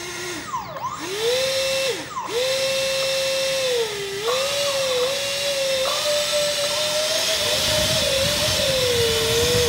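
Twin electric ducted fans with brushless motors on a small RC mini airliner whine loudly and close by. The pitch rises and dips as the throttle changes, then settles into a steady high whir.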